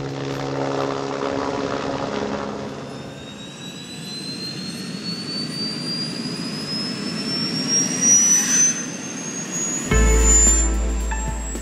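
An Airbus H125 helicopter turbine engine from an alpine aerial-work operator, heard as a loud, steady jet-like whine with a rising high-pitched tone and rotor rumble, close and continuous for several seconds with no talk.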